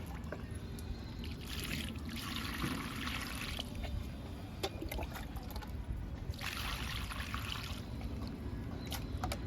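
Water is poured onto marigold plants growing in an onion basket filled with garden waste, a steady trickling and splashing wash that runs continuously, close by and fairly even throughout.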